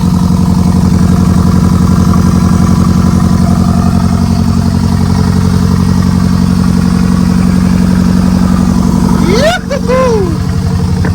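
A Renault Megane R26 engine swapped into a Clio runs with no exhaust fitted, giving a loud, steady, rough close-up drone that holds for about nine seconds before cutting off abruptly, with a brief whine as it stops.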